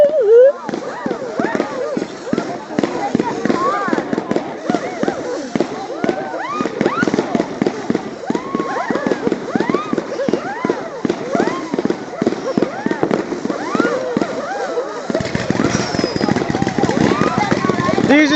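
A 100-shot fireworks cake fires a long, dense, rapid string of launches and crackling bursts. A voice is heard over the barrage.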